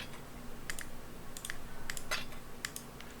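Several quick mouse clicks in Path of Exile as items are moved between inventory tabs, sharp light ticks in small clusters over a faint steady background hum.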